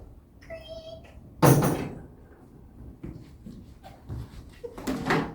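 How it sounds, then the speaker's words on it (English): A door is opened for a police inspector in a staged period drama, giving a short bump and a sweeping rush of sound, then a second similar opening noise moments later, with quiet room noise between. "Open the door, will you, Smithers?"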